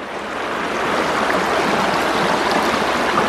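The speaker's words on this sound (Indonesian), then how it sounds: "Gue sekarang berada di bawah, di areal sungainya." A river stream flows steadily beneath a forest footbridge, a loud, constant rushing wash of water close by with no other sounds.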